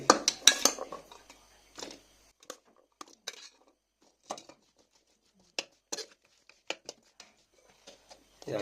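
A spoon scrapes and clinks against a bowl while elephant apple pickle ingredients are mixed, producing scattered short taps and scrapes with quiet pauses between them.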